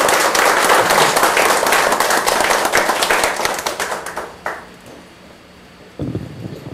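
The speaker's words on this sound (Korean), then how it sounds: "박수 부탁드리겠습니다." A crowd at a Daejeon party members' rally claps in dense, loud applause that tapers off after about four seconds into quieter scattered claps.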